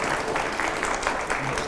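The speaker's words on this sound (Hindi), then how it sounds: "क्योंकि बच्चे ताली बजा रहे हैं" Children clapping at a public event, a steady patter of applause, moderately loud, continuing throughout.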